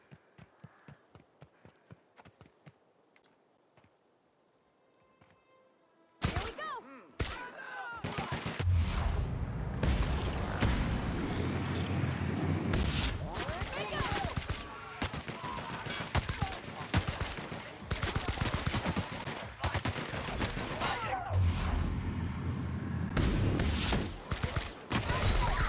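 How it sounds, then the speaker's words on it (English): Rapid gunfire in the video game Outer Worlds, starting after a quiet stretch of light tapping, then dense loud bursts and sustained automatic shots with brief gaps, near and continuous. "Why is Pavardi shooting?"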